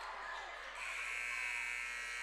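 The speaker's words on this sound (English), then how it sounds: "a buzzer. So that'll be it." A basketball game-end buzzer in a high school gym, a loud sustained electronic drone that sounds steadily through most of the moment under crowd noise.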